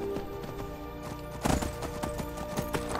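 Horse hooves clip-clop in a steady rhythm in Skyrim, close and fairly loud, with a heavier thump partway through and faint ambient game sound beneath.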